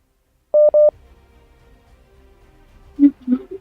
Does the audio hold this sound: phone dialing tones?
yes